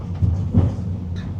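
A train pulls out of Keles station on the Almaty to Tashkent international route, making a brief, steady low rumble with soft mechanical noise and no voices.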